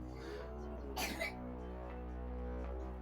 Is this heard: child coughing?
yes